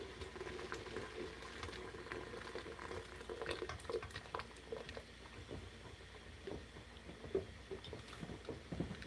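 Water boiling in a pot used for scalding canning jars, a steady close bubbling and patter with occasional louder pops and light clinks throughout.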